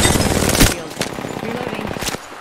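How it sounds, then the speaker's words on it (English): Bursts of rapid automatic gunfire from enemies in the video game Apex Legends, several sharp volleys in quick succession, loud and close, with a brief pause between clusters. "The enemies are shooting at me."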